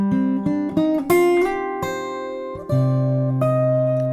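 Guitar playing a riff, bass notes on the fifth string under higher fretted notes, a short run of plucked notes that ring and sustain, close and clear with no talking.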